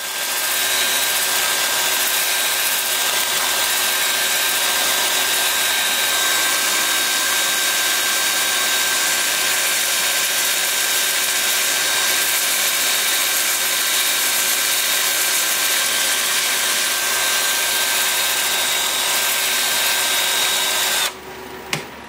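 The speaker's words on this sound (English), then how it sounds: "I have the lathe spinning in reverse at 400 RPM" A madrona wood turning spins on a lathe running in reverse at 400 RPM while being sanded, giving a loud, steady broadband whoosh and hum that continues unbroken before cutting off abruptly at the end.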